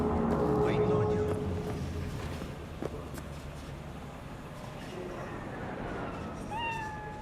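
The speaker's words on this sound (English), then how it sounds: "I didn't even see the cat." A cat in the video game Cyberpunk 2077 meows a few times, short and fairly close, over game ambience and background sound.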